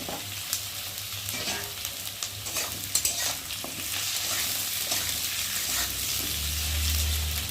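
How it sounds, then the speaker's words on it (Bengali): Chopped potatoes fry with onion in a hot pan, a continuous close sizzle with occasional stirring scrapes and small crackles, steady and alone without talk. "এখন আমি কেটে রাখা আলুগুলোকে দিয়ে পেঁয়াজের সাথে একটু ভালো করে ভেজে নেব।"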